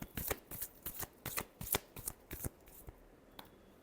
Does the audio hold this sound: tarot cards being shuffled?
yes